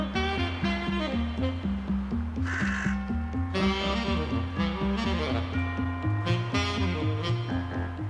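A carrion crow in London caws repeatedly in a steady rhythm of harsh, close calls, with a few sharper bursts breaking in and no speech.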